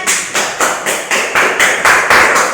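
Classroom applause after a student group presentation: a steady run of rhythmic hand claps, fairly close and loud, growing slightly stronger toward the end, with no talking.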